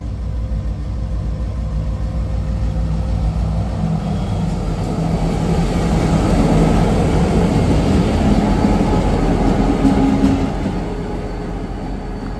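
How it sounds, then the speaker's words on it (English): A train hauled by two locomotives rumbles past steadily at moderate distance, a broad continuous roar that swells in the middle and eases toward the end, with no voices. "I think we got a train coming."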